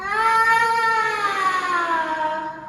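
A voice imitates a cat's meow, one long, drawn-out wavering cry.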